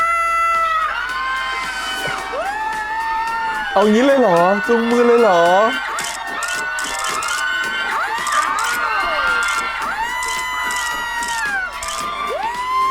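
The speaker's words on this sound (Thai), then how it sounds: "ถ้าพร้อมแล้วขอเสียงปรบมือต้อนรับพระเอกของเราในค่ำคืนนี้" A crowd cheers and whoops to welcome the lead actor of the Thai series My Stand-In at a press-event segment, with bursts of shouting and excited voices while people talk over it.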